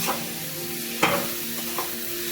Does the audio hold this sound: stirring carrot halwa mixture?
yes